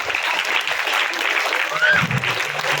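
Students clap for junior high school staff at a government boys' school event in Samalkot, a dense sustained round of applause with some voices mixed in.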